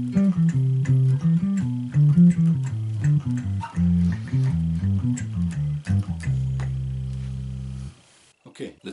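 Guitar playing consecutive major-scale triads, two stepping up and two stepping down in alternation, clear and close, ending on a sustained chord that rings and then cuts off.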